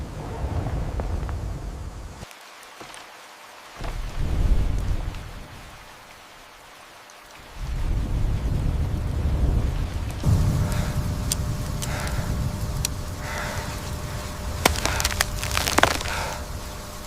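Heavy rain in a thunderstorm roars in loud, dense washes that cut out briefly twice, then return stronger with gusty wind and sharp cracks through the second half.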